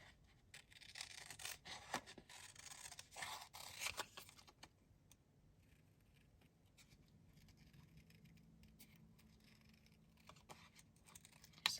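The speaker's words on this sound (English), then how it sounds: "So now let's go ahead and cut this out." Scissors snip and rasp through paper while a coffee cup pattern is cut out, quick crisp cuts clustered in the first few seconds, then softer, sparser rubbing and a final sharp click.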